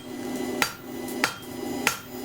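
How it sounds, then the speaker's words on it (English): A big hammer strikes a stainless steel spoon on an anvil three times at an even, unhurried pace, each blow a sharp metallic ring up close over a steady background hum. "so get the bigger hammer on it."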